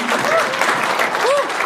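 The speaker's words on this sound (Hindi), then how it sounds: "आप एक बार जोरदार ताली यार।" Audience clapping during a comedy escape-room show, a short burst of applause with a voice speaking over it.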